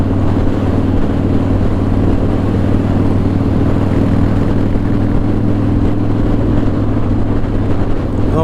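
A Harley-Davidson CVO Pro Street Breakout big V-twin motorcycle engine rolls on the throttle, a loud, close, steady low rumble that holds evenly throughout.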